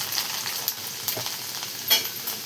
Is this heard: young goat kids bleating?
no